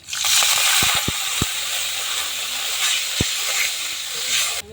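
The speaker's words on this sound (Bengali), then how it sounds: "মশলা কষানোর জন্য পানি দিয়ে নিলাম" Water poured onto frying spices in a pan, a loud continuous steam hiss that fills the whole stretch, punctuated by several sharp metallic taps near the start.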